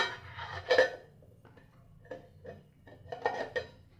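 A metal lid is set over a steaming pot of vegetables, giving a few close, light clinks and taps: a sharp clatter at first, then softer knocks spaced out over a few seconds.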